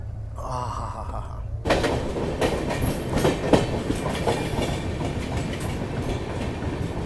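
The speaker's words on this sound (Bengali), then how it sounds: "আমাদের ট্রেন ঢুকে গেছে বোলপুর শান্তিনিকেতন" A passenger train on the Silchar–Sealdah Kanchanjunga route rolling on rails toward Bolpur Shantiniketan, a brief quieter interior passage giving way to a loud steady rumble with rhythmic clickety-clack wheel beats, heard close from aboard.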